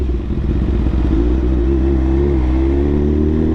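A BMW S1000RR motorcycle engine and exhaust rumble loudly from close by, a heavy steady throb whose pitch rises slightly as the bike pulls away on the road.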